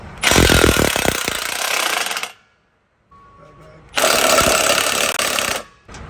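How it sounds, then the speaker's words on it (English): Two long bursts of loud, rattling power-tool noise removing 13mm exhaust bolts, separated by a short quiet gap, close and harsh, each lasting a couple of seconds. "the first thing we're going to do is remove the two 13mm bolts"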